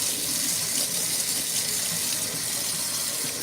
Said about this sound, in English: So just rinse this out. It's nice to have a metal sink.